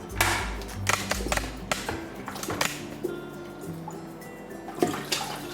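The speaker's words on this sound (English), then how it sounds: "We are going to rinse the DOMA in a bucket of fresh water." Water sloshes and splashes as a plastic dome port from an underwater camera housing is rinsed in a bucket of fresh water, with close, irregular bursts of swishing and a few knocks.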